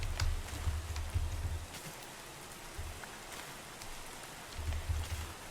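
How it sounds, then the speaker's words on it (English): Rain falling in Minecraft, played with the OceanBlock modpack: a steady, soft hiss runs throughout, with low rumbling swells near the start and again near the end. "And we'll be right back in a few minutes, once the rain's done."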